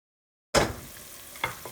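After a moment of silence, kofta curry masala with spices starts sizzling loudly in a pan on medium-high heat, with two short scraping stirs following.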